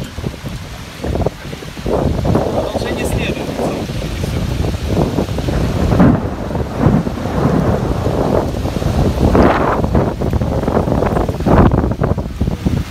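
Hurricane-force storm in Kyiv on 25 July, with heavy roaring wind buffeting the microphone and rain lashing down continuously and loudly, while voices talk intermittently beneath the gusts.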